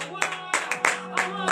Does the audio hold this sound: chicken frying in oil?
no